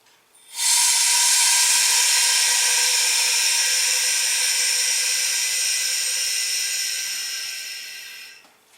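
Compressed air rushing into a resin pressure pot while casting buckeye burl knife handles in gold resin, a loud steady hiss lasting about eight seconds that slowly tapers before cutting off.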